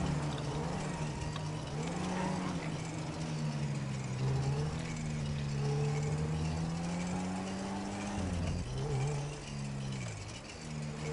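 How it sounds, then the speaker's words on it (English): A damaged car in GTA Online gives off a steady, droning engine tone with a wavering pitch that rises and falls under gameplay, running continuously with no talk over it. "That car has been damaged or something. I can't stand that noise."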